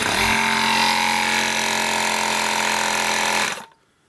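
A Milwaukee M12 AirSnake drain cleaner pumps up to 10 psi with a loud, steady motorized buzz and rattle, running continuously for over three seconds before cutting off abruptly into near silence.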